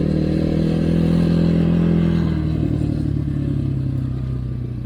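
A Kovi Max 300 enduro motorcycle being ridden, its engine a loud, steady, close drone that eases off slightly toward the end, with no talking.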